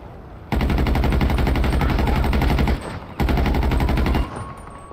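Enemy gunfire in a modded GTA 5 video game: loud, close bursts of rapid automatic fire, one long burst, a brief pause, then a shorter second burst, with no talking.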